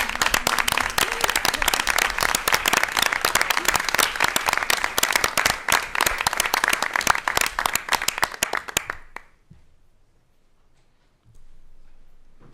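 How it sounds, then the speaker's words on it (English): A school board meeting audience gives a long, steady round of applause with many hands clapping loudly for about nine seconds before it stops abruptly, leaving faint room noise. "just wanted to give them a big round of applause"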